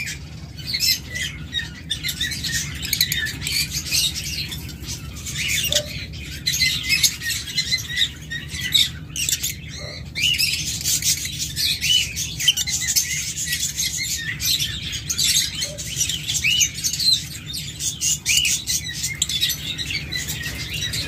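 A pair of violet lovebirds in a cage keep up a dense stream of shrill chirps and squawks, close and continuous, with bursts of fluttering.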